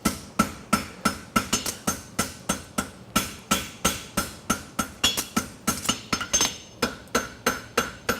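Hammer blows on the edges of an egg bar horseshoe at the anvil, a rapid, steady run of ringing metallic strikes, close and loud, with no talk.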